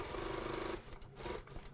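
A sewing machine runs briefly, stitching a seam on fabric for a draped garment, a fast steady whir close by that stops after under a second, followed by faint handling.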